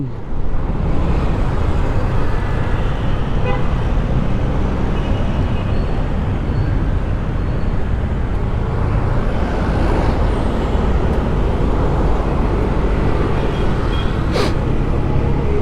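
Dense Philippine road traffic on the way to Marikina, with a steady broadband roar of trucks, buses and cars, occasional air-brake hisses and engine rumble throughout, loud and continuous.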